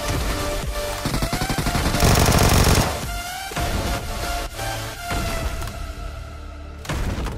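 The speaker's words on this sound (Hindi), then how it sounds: "देखो वो फायर कर रहा है ऊपर से, इसको मारता हूं।" Rapid bursts of gunfire in the PUBG battle royale game, loud sharp automatic volleys and single shots in quick rhythm with brief pauses between exchanges, no talk over them.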